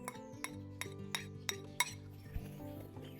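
Utensils mixing green peppers and onions into a salad in a bowl for a braai, giving about seven sharp, evenly spaced clinks against the bowl over a steady tonal background hum.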